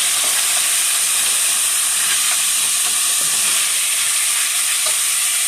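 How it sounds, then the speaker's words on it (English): Spare rib tips in a glazed sauce, stirred in a hot pan, give a loud continuous sizzle and hiss with soft scraping stirs throughout, no talking. "we're going to stir that around in there"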